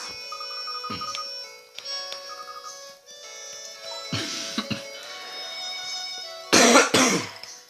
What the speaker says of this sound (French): Je tousse beaucoup.